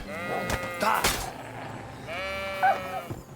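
Several sheep bleat in turn in Kingdom Come: Deliverance II, wavering nasal cries close by, with brief clattering game sounds in between.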